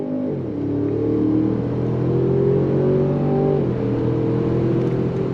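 2023 Range Rover Sport engine pulling hard on throttle, a steady loud drone rising in pitch with a smooth gear change midway, heard from inside the cabin with no talking.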